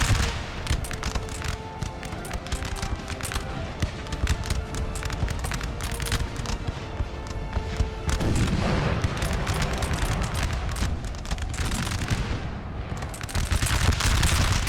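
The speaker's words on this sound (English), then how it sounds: "Artillery's just trying to take out as many of the infantry as they can." Battle din from Napoleon Total War, with artillery and musket volleys sounding as a dense, continuous barrage of booms and crackling fire that swells louder toward the end.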